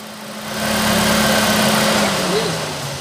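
The 1.4 engine of a 2009 Chevrolet Prisma with a misfire on cylinder 4 rises from idle into a held rev and then eases back, a close, steady mechanical drone with a slightly uneven tone.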